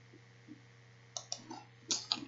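Several sharp computer mouse clicks at a desk, a few scattered singles then a tight pair, close and fairly quiet over a steady low electrical hum.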